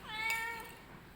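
A cat gives a single drawn-out meow, rising then falling in pitch, close and clear in a quiet room with no one talking.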